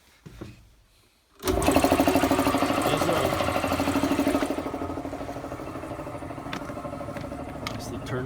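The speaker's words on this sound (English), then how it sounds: "Let's turn the compressor on." An air compressor on a solar battery system clatters into steady running after a brief quiet start, a loud continuous mechanical chugging with rapid pulsing rhythm.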